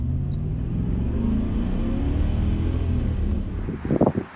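A supercharged 1993 BMW 740i built by Dinan drives past with a steady low rumble and wind noise, swelling into a short burst of louder revving near the end.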